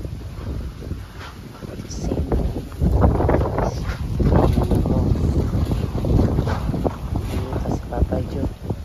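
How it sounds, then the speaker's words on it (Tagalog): Strong wind buffets the microphone in steady gusts over open water, with voices talking and calling out over the roar. "Lakas ng hangin."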